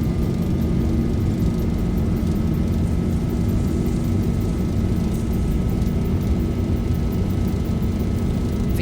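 A Boeing 737-800 in a flight simulator game roars through a full-power takeoff roll, a loud, steady broadband engine rumble with a faint whine that holds unbroken throughout.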